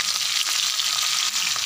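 Sliced onions hit hot oil with whole cumin for aloo matar dum, sizzling and crackling close up in a steady, busy fry with small pops throughout.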